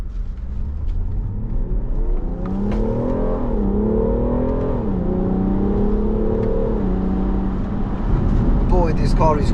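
A BMW M340d xDrive Touring engine accelerates hard in manual mode with paddle shifting, heard loud and close. The note climbs in pitch, drops briefly at each upshift, then climbs again.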